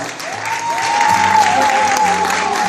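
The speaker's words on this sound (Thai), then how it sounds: "ขอเสียงปรบมือต้อนรับคุณโจ นัทเดชนะครับ" Audience applause welcoming a guest at an executive awards event, a steady dense wash of clapping with a sustained tonal hum or music beneath it.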